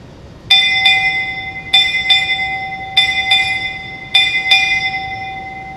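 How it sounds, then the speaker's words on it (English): A ship's bell struck eight bells at a Navy centennial ceremony: four pairs of sharp, ringing strikes with a clear sustained tone, each pair followed by a short pause. "Bosun, strike 8 bells."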